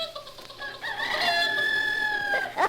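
Domestic hen or rooster vocalizing alone, with a drawn-out, crowing-like call that rises and holds for over a second, preceded and followed by brief clucks; close and fairly loud.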